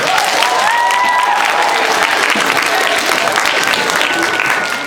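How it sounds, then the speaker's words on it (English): A live game show audience gives a big round of applause, a dense and steady roar of clapping with a few whoops and voices rising above it. It stays loud for the whole span. "Let's have a big round of applause."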